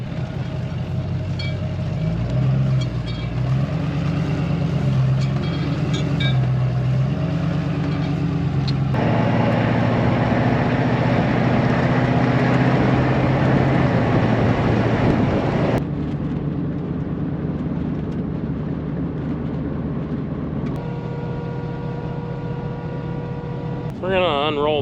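Pickup truck with a bale bed carrying two round hay bales down a farm road, its engine and tyre noise a steady, continuous drone that shifts in tone a few times along the way.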